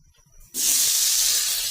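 Eggplant dropped into a hot pan used for frying fish erupts into a loud, sudden sizzle after a quiet moment, then hisses on steadily and close.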